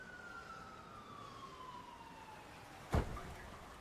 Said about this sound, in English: he hears an ambulance outside.